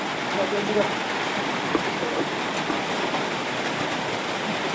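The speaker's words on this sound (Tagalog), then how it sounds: "sobrang ulan talaga" Steady, dense hiss of heavy rain pouring continuously, loud and close, with a few faint indistinct sounds beneath it.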